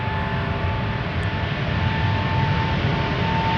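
A KLM Boeing 777-200 jet departs Amsterdam Schiphol, a steady, broad engine roar holding evenly throughout with a faint whine running over it.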